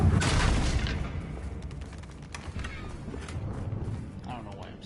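Spell blasts from Bombarda and Confringo cast in the game Hogwarts Legacy: a loud booming burst opens, then repeated sharp cracks and rumbling impacts follow through the clip, with speech mixed in.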